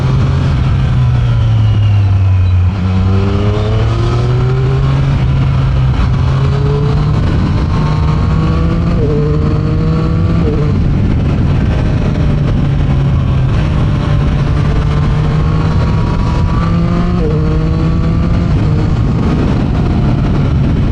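A Triumph Street Triple RS motorcycle with quick shifter and auto blip, its engine droning loud and close as it accelerates, pitch climbing and dropping with each gear change under steady wind rush.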